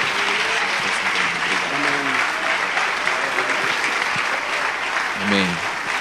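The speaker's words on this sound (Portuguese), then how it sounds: "Aplauda o Senhor para a glória dele." A church congregation applauds in a sustained wash of clapping, with voices faintly audible beneath it.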